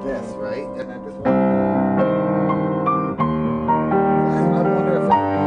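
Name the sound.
soprano saxophone note played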